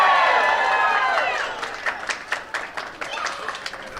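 A crowd at a pop culture convention panel applauds the winner of a kids' costume contest. The applause starts as a broad wash, then thins to scattered claps under speech.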